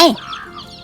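A backyard chicken gives a short cluck while taking food from a person's hand, a single close call that fades quickly into faint background noise.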